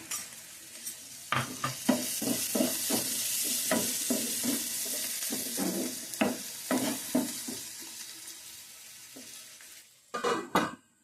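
Onions with chili powder and turmeric fry in a pan for a bitter gourd curry, giving a steady sizzle. A utensil stirs and scrapes against the pan in repeated sharp strokes, close and clear, with no talking.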